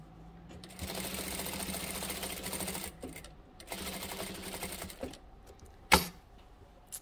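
A sewing machine top stitches a towel topper closed in two steady running stretches separated by a pause. The motor hum is close and even, followed by a sharp click near the end.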